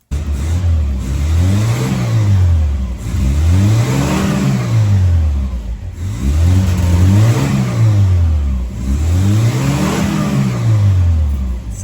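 A 1981 Dodge Challenger with a small, sluggish engine revs up and falls back in four repeated swells, loud and close, with no talk over it.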